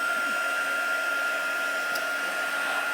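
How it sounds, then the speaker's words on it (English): A steady, loud whirring blast of air from a heat tool runs continuously, with a constant high-pitched whine and no pauses. "I don't know if you all can hear me over this heat tool"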